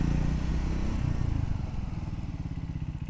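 Triumph Scrambler 400X motorcycle slowing under combined front and rear braking: a loud low engine drone shifts into a pulsing, descending chug as the bike decelerates, close and alone with no talk.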